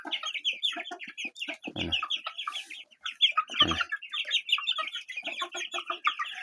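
A flock of chickens, black hens among roosters, clucks continuously and close by in quick overlapping bursts, with a single brief spoken word.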